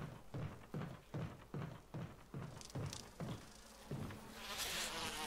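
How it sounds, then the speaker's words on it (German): Bees buzzing in the video game Resident Evil HD Remaster: a steady insect drone with a rhythmic, pulsing beat underneath, ending in a louder, brighter buzzing swell, no talking. "Oh, da sind die scheiß Bienen."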